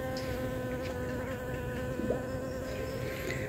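Bees hum steadily around portulaca flowers in a home garden in the morning, a close, continuous buzz with a slight rise and fall and no voices.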